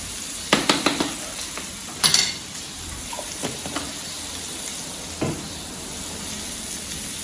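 Food browning slowly in a pan gives a steady close sizzle under a few sharp clinks and scrapes as pieces get turned, with no talking.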